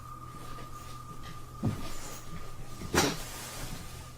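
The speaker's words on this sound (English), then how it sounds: "I even hear some taps after the door opens" A door opens with two short, distinct thumps and scrapes, about a second apart, against a faint steady hum in an otherwise quiet room.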